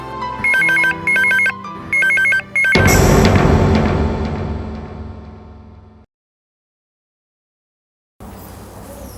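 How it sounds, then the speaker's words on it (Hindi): A landline telephone rings in short electronic bursts, then a longer ringing burst fades out, followed by silence and a faint hum, placed while calling a mobile phone in an office setting in a Hindi TV serial. "राज के मोबाइल पर फोन लगाते हैं।"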